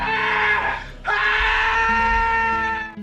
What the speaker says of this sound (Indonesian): Wallace sangat ketakutan dan terus berteriak